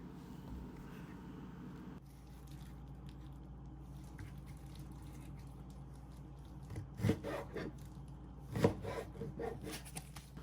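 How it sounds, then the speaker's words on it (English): A knife cutting eggplant into cubes on a board, heard as two quiet, soft chopping knocks a second or so apart against faint background hiss. "And you're gonna cut horizontally to make some cubes"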